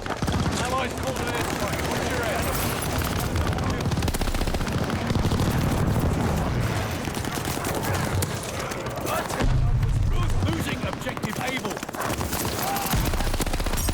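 Rapid automatic gunfire and bursts of shots from a Call of Duty: Vanguard multiplayer match with an M1928 submachine gun, dense and continuous across the whole stretch, mixed with game effects and a voice talking over it.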